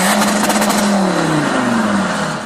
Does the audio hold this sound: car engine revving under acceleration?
yes